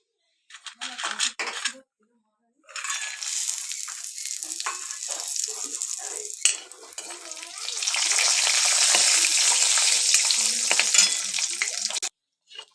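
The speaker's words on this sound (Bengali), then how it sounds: "এবার যেটা করব, এই তেলেই বড়িগুলো ভেজে নেব খুব ভালো করে।" Lentil dumplings (bori) frying in oil left over from fish, giving a loud, dense crackling sizzle that stops briefly near the start and then swells into a sustained hiss before cutting out.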